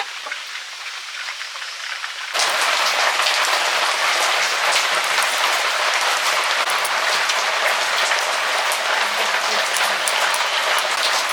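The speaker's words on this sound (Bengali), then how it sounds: "বৃষ্টি তো পড়ছে বাইরে" Steady, dense hiss of heavy rain falling, starting quieter and then growing louder after a couple of seconds, continuous with no voices.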